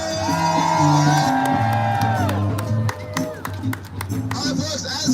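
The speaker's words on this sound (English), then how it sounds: "Let's give another applause for James Hyatt." A rally crowd claps and cheers with whoops and shouts, while loud voices ring out over the applause before it thins toward the end.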